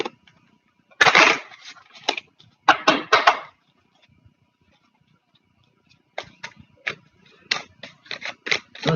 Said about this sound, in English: I'll pull a card for you guys.